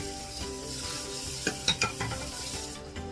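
Spicy squid, shrimp and chili stir-frying in a hot pan, a steady close sizzle with a few scraping stirs of a utensil against the metal, no voices over it.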